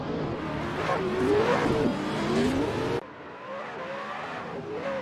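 Drift car engine revving in a virtual racing game during an online drift club practice session, rising and falling steadily near and loud, with a duller, quieter stretch in the second half and no talking.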